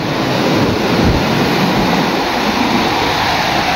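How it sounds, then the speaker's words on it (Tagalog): Large sea waves break and wash continuously onto the shore, a loud, broad roaring surf with wind buffeting the microphone. "natatakot ako sa mga alon"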